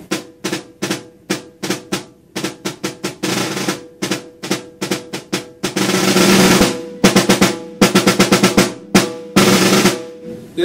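Snare drum playing an etude line from Cirone's Portraits in Rhythm, with crisp rhythmic strokes and short rolls that swell into a loud, sustained crescendo in the middle before returning to accented figures, played alone.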